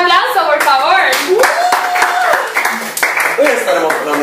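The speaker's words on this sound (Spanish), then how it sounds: "Un aplauso, por favor." A television studio audience claps to welcome a guest on a Puerto Rican talk show, scattered clapping beneath loud, sing-song speech from a host.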